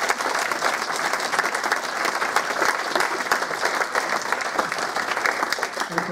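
A conference audience applauds the speakers after a question session, dense sustained clapping from a crowd filling the room, steady and fairly loud throughout.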